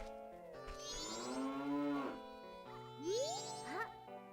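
A cow lows in Zelda: Majora's Mask at a ranch, two clear synthesized moos with rising, bending pitch, the second shorter, close and alone over light game music.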